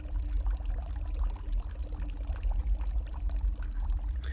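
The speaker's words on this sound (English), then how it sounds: "you could hear the water actually running" Water runs steadily in a video game, a continuous rushing, pouring wash with low rumble, close and even throughout without a break.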